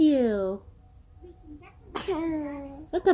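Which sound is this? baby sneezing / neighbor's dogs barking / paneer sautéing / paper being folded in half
baby sneezing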